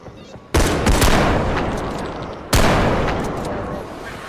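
Two loud shotgun blasts in a video game, a couple of seconds apart, each a sharp boom trailing off into a long decaying rumble.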